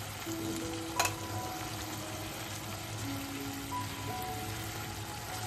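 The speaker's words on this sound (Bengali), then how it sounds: "এবার হালকা হাতে নাড়াচাড়া করে ওপর নিচে করে দিচ্ছি।" Flat beans and shrimp being turned over gently in a frying pan for a Bengali dish, a soft steady sizzle with a brief clatter near the start, close and unbroken with no voices.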